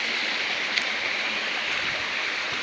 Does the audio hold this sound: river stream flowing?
yes